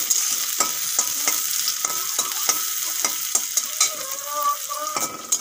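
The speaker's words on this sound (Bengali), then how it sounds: "পেঁয়াজটা একটু ভালো করে ভেজে নেব" Chopped onions fry in hot oil with dried red chillies, a steady close sizzle broken by repeated scraping strokes of a spatula against the pan, with no voices.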